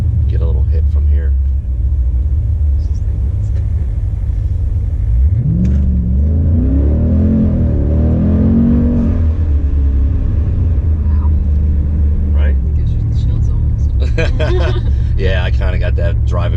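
A car accelerates hard, its engine note rising in a sweeping climb over a steady low rumble inside the cabin, then settling back to a cruising drone; people talk faintly in the background.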